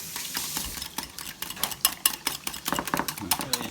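A whisk or fork beats seasoned salt and garlic salt together in a bowl, making quick, uneven clicks and scrapes against the sides that come in a busy, irregular rhythm, fairly quiet and close.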